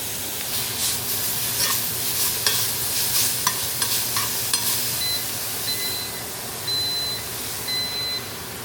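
Extra lean ground beef sizzles in butter and extra virgin olive oil, a steady close frying hiss broken by scraping stirs, then repeated electronic beeps toward the end.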